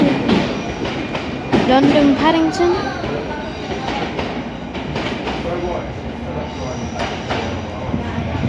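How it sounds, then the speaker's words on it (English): A train leaves a platform at Plymouth station, a long double-length set rumbling and clattering under a station announcement and nearby talk, with a faint squeal of wheels. "the train now departing from platform 8"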